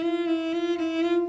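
Cello plays a smooth, steady sustained note that blurs into the next with no clear attack between notes, because the fourth finger is barely lifted. It sounds close and rich in overtones, with no voices.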